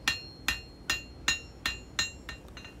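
A blacksmith's hammer strikes hot steel while forging the bevel of a small integral bolster knife, giving seven or eight sharp, ringing metallic blows at a steady, fairly quick rhythm, with no voices.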